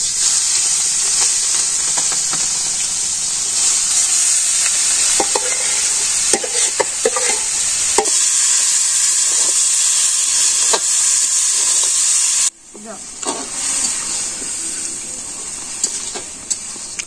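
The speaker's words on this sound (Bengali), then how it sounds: "মাংস কষানো হইতেছে" Chicken meat sizzling loudly in a pan for a village-style chicken curry, with a steady hissing fry and scattered scraping stir strokes, close and continuous, briefly dipping before resuming.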